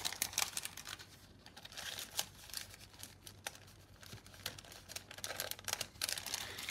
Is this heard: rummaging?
yes